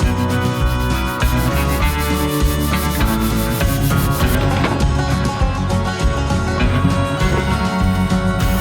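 Fine sandpaper rubbing in a continuous, loud, rhythmic scratching that holds a steady pace throughout, alone with no talk.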